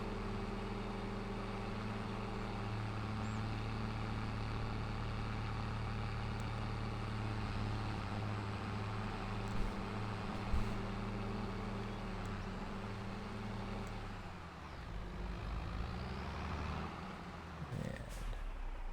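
In Farming Simulator 22, a tractor drives across rough terrain on the Selendra map with a steady, low engine rumble that holds throughout and shifts slightly toward the end.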